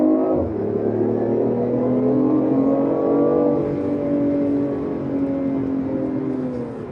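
A BMW i8 with active sound design revs up close and loud, its synthesized engine note climbing and holding in a smooth rising drone before easing off slightly, with no talking.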